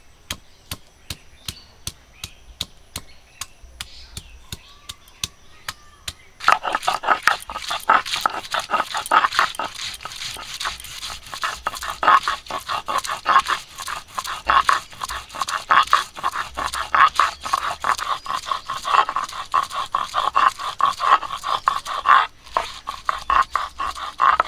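Ginger and garlic are ground together into a paste with rapid, regular pounding strokes, quiet at first and then louder and denser for the rest of the stretch.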